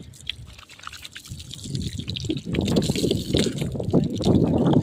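Cold tap water runs and splashes during an outdoor bath in rural Bihar, a steady close trickle and patter that grows fuller and louder as it flows.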